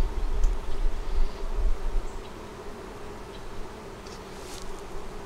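Honey bees buzz around an opened deep eight-frame hive, a steady dense hum close by with occasional louder passes near the start and a few brief higher whines, no voices.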